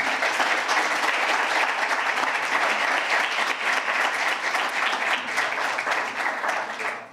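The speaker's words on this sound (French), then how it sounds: "Je pense qu'on peut applaudir nos intervenants" An audience at a French civic conference applauds the speakers, a steady dense wash of clapping that holds for several seconds before starting to fade at the end.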